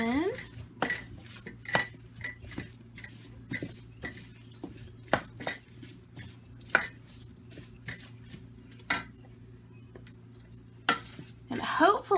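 Food stirred in a pot, heard as a series of metallic spoon clinks and scrapes against the rim at an uneven rhythm over a low steady hum, close and moderately loud, with a faint sizzle beneath.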